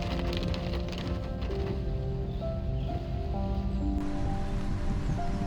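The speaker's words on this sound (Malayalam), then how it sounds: "നല്ല പോലെ മഴ പെയ്യാൻ തുടങ്ങി" Rain falling steadily on a monsoon road trip near Puliyampara in Nelliyampathy, a continuous broad hiss with pattering drops, mixed with a low engine-like hum and tonal background sound, no voices.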